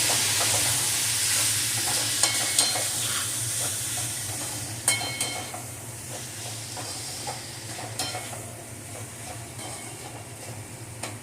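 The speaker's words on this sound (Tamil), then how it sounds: "இப்போ வந்து இதில் கட் பண்ணி வச்சுருக்கிற தக்காளியை போட்டுக்கிறேன்." Chopped tomatoes frying and being stirred in a pan with onions and a little turmeric for paneer subji, a steady close sizzle with scraping stir strokes throughout, no talk.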